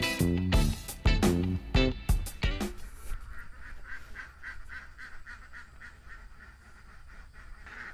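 Ducks quack in a fenced duck enclosure, with a cluster of loud close honking quacks at the start giving way to a softer, rapid, repeated chatter of calls further off.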